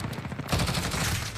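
Rapid gunshots from a Call of Duty match, a quick run of close bursts that swells into heavier, denser fire over about a second and a half.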